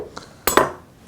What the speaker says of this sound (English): And bruise it with a meat pounder.